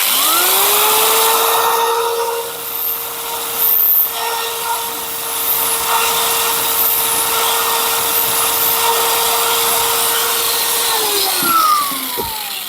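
A power tool grinds steadily to shape and taper the cut tip of a part during a motorbike upgrade. The whine holds a constant pitch for about ten seconds, then spins down near the end.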